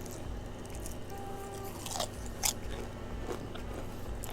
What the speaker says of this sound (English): Listen to the crunch.